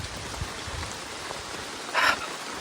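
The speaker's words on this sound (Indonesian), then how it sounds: "Ini mumpung hujannya tidak keroyokan." Light rain falls in a forest near Cirebon, making a steady patter of drops on leaves and ground, with a short louder hiss partway through.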